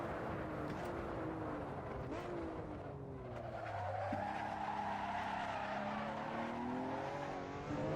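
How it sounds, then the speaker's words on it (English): Car tires skid and squeal through a handbrake pull in the Assetto Corsa racing game, with the engine droning and shifting pitch underneath, loud and continuous throughout. "Cheeky little handbrake pull there."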